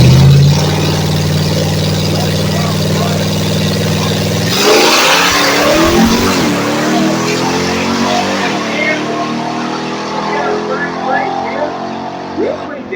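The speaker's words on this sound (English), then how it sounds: "He'll be chasing the little yellow Mustang of Walter." Race cars, including a small yellow Ford Mustang, accelerate hard at the Noname Nationals, with a loud steady engine drone breaking into rising revving sweeps as cars pass close, under a commentator's voice.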